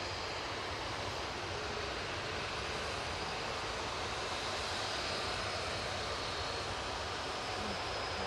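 An airliner takes off at Manchester Airport and climbs away into cloud, its jet engines a steady, broad, roaring rumble that holds constant and loud throughout, with no talk.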